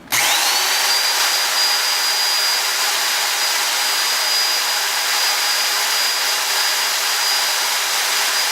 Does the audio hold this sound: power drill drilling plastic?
yes